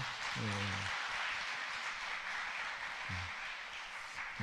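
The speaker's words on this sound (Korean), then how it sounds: "우리 청년들 하나님의 은혜 가운데, 하나님 말씀 가운데 멋진 삶을 살라고 격려의 박수 한번 보내볼까요?" A church congregation gives an encouraging round of applause, a steady wash of moderate clapping heard from a little distance, with a few brief low tones cutting through it.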